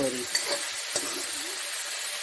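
Cut pieces of jackfruit being stirred through hot oil in a pan, a steady close sizzle and frying hiss with a few soft scrapes of the spoon, nobody talking.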